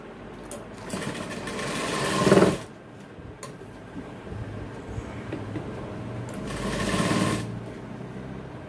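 Sewing machine stitching around the oval model neckline of a blouse, a steady mechanical whir throughout with two louder bursts of faster running.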